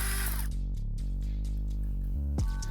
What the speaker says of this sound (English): you can just hold your trigger down and drill like crazy until all that carbon starts coming up